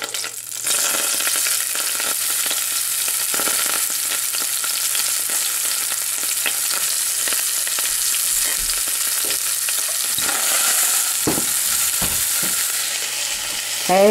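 Onions, three of them plus green onion, sizzle and fry in hot oil with carom and cumin seeds, a steady loud crackle running throughout with occasional stirring scrapes and clinks, no talking.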